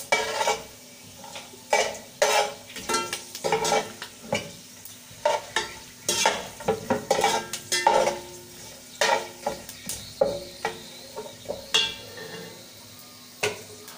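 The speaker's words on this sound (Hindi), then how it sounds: "और ज़ीरा भी हम इसके अंदर शामिल कर देंगे थोड़ी देर इसको ज़रा मैं रोस्ट कर लूँ" Cumin roasts with whole garam masala in a pot for matar biryani, with a low sizzle under a busy rhythm of spoon scrapes and clinks against the metal pot, heard up close with no speech.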